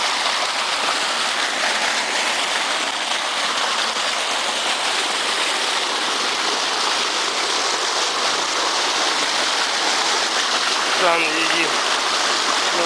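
Water pouring steadily out of a factory cooling pool, a dense broadband rushing that stays loud and even throughout, with a brief faint chirp near the end.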